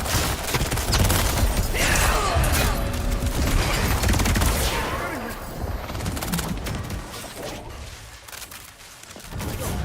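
Gunfire in the video game Highguard: sustained rapid volleys of loud shots and clattering impacts, close and heavy, fading slightly midway before resuming, with a voice talking faintly underneath.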